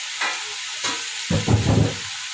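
Leftover rice frying in a hot pan: a steady sizzle and hiss with a few stirring scrapes near the end, close and moderately loud.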